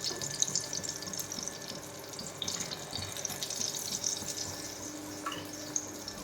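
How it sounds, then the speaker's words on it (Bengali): Hands being rinsed of raw egg under a running kitchen tap, a steady close splashing stream of water running throughout with small clinks and drips. "ডিমের হাতটা ধুয়ে নিই"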